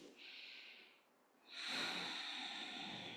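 A slow, audible inhale and then a longer, fuller exhale, close and soft, as one person breathes deeply at rest during a yin yoga stretch session.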